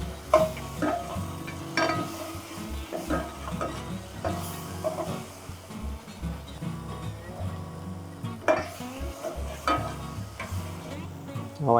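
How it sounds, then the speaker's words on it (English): Cherry tomatoes and chopped garlic sizzling in olive oil in a pan, seasoned with salt and pepper, a steady close frying hiss broken by repeated scrapes and stirs of a utensil against the pan. "Now I am going to make some grilled cherry tomatoes."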